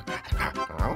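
A dog barks twice in quick sharp yelps, fairly close, mixed with excited voices in a cartoon scene.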